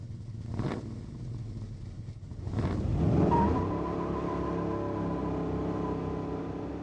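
A 1967 Chevy C10 pickup on Toyo tires gives two short blips of engine noise, then launches off the line with a loud rising rumble that settles into a sustained drone.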